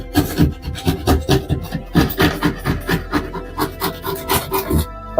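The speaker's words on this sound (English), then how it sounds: "your knife has to be up and down or you're actually cutting an angle into the drywall" Knife sawing back and forth through drywall, a rapid rhythmic rasping of repeated close, loud strokes with no talk.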